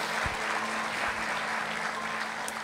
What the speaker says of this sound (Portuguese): Dá um aplauso para esse pessoal aí